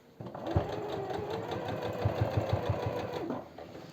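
Industrial sewing machine running steadily while stitching belt loops around the waistband of men's jeans, a loud continuous mechanical whir with rapid needle knocking throughout.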